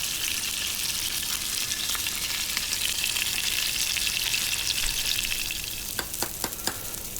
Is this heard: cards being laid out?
no